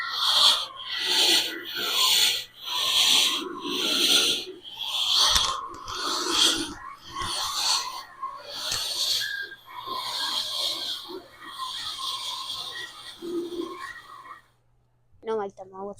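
Spirit Halloween Cerberus animatronic dog with fog effect, giving loud raspy rhythmic breathing and snorting wheezes in repeated bursts, close by, with some talking mixed in and a brief quiet near the end.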